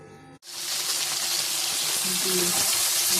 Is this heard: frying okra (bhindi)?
yes